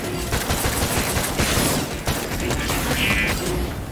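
Rapid gunfire rattles in the VR shooter Stormland during a multiplayer fight against robots, dense repeated shots and mechanical clatter packed together over a noisy battle bed, loud and continuous.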